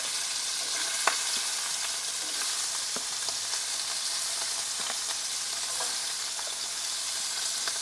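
Shrimp sizzle steadily in a hot pan for a spicy Cuban-style shrimp dish, with a constant bright frying hiss and a few sharp pops and crackles scattered throughout, heard close and alone without talk.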